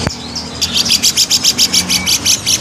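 A caged ciblek gunung songbird sings a sharp, rapid series of about a dozen evenly spaced high chirps, loud and close, after a brief click at the start.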